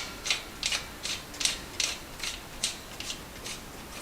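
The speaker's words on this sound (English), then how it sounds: "now we're going to thread this bottom bracket bearing ring back into these threads here" A Schwinn Airdyne bottom bracket bearing ring being turned by hand into its threads gives a steady series of about nine crisp metallic ratcheting clicks, evenly spaced and close, with no talk.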